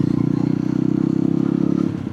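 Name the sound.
Yezdi Roadster 2026 motorcycle engine riding in third gear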